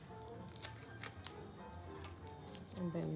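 A few quick, crisp snips of scissors through paper, close by, with brief pauses between cuts and some faint background noise.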